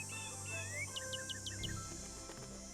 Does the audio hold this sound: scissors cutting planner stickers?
no